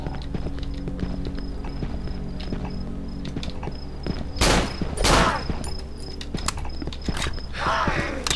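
Gunfire in the horror video game Cry of Fear comes as a couple of loud close bursts midway over a steady droning game soundtrack with other effects.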